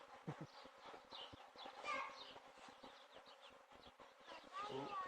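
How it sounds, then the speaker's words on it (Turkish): Faint buzzing of many honey bees around hives and a swarm outdoors fills the air, with a voice talking and a few bird chirps mixed in. "Her taraf arı."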